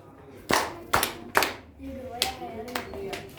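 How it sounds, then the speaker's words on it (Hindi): Several children clap their hands in a classroom, a few sharp bursts of claps a fraction of a second apart, with faint speech murmuring underneath. "क्लैपिंग कर दो, क्लैपिंग कर दो। स्काउट ताली बजा।"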